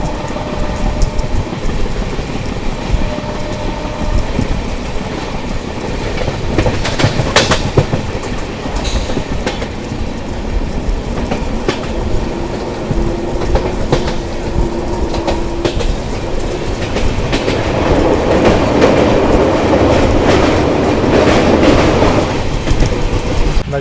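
Inside the Jharkhand Swarna Jayanti Express (12874), a steady loud rumble of the coach running on rails, with rhythmic clickety-clack over rail joints and a brief higher screech partway through, no talk.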